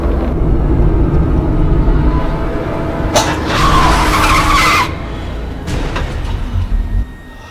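Car braking hard at a red light, a loud engine rumble broken by a bright tire screech lasting over a second, then a shorter squeal as the noise drops away.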